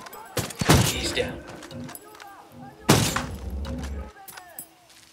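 Gunfire in Ghost Recon Wildlands, a tactical shooter: two loud bursts of shots with impact crashes, the first near the start and the second around three seconds, separated by quieter game ambience and brief radio-style voices.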